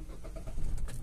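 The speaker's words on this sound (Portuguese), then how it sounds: "Ligar o carro de novo." A manual car stalled during clutch practice on a hill is started again, its engine rumbling low and close, then swelling louder about halfway through as it catches and idles.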